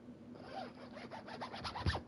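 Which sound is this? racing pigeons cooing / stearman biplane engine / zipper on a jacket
zipper on a jacket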